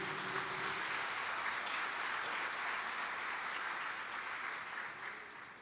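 An audience at a church conference applauds, a dense, even roar of clapping from a large crowd that holds steady, then tapers off slightly at the close.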